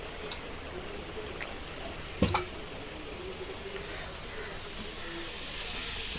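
Onions frying in a pan give a faint, steady hiss, with one sharp clatter midway and a voice in the background.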